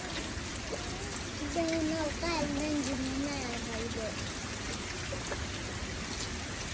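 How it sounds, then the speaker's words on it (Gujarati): Rain falling on a fishing boat out at sea, a broad steady wash of noise with someone talking over it midway. "વરસાદ તમે જોવો"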